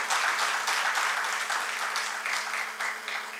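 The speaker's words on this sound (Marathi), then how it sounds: "जोरदार टाळ्या वाजून आपण त्यांचं स्वागत करूया" An audience applauds continuously, a dense wash of many hands clapping at a steady level for the whole stretch.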